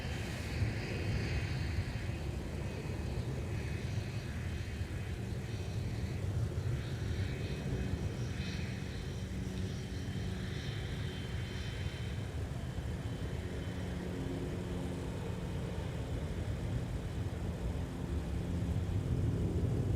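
An airplane at Minneapolis–St. Paul airport (MSP) produces a continuous broad engine roar that stays steady and fairly loud throughout, with no talk over it.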